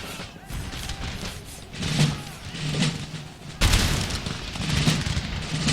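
Musket volleys crackle from ranks of infantry in an Empire Total War battle, several booming rounds of fire rippling across a busy battlefield with one sharp, loud volley standing out midway.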